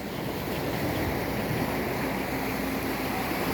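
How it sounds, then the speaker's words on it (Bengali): Waves and open-water rumble on the Lake Ontario shore where tourist boats cruise, a steady broadband wash with wind buffeting the microphone, no voices. "বোট নিয়ে ঘুরছে পর্যটকটা, দূরে একটি বোট, আরও বোট আছে।"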